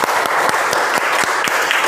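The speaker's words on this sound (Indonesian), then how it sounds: "Mantap, kasih tepuk tangan." Classroom applause from a group of students, steady rhythmic clapping with regular accented beats, fairly loud and continuous throughout.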